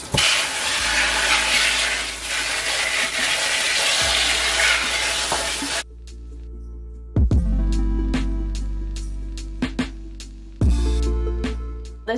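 Running water rinses a houseplant being cleaned of thrips, a steady broadband splashing rush for about six seconds, then stopping, followed by quiet handling noises and a few sharp knocks.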